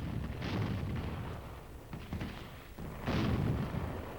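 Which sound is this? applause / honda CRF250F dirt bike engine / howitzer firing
howitzer firing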